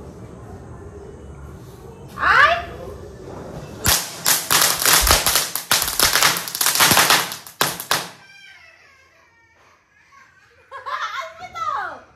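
Firecrackers burst in a rapid, loud crackling string lasting several seconds, with children's excited voices and laughter before and after.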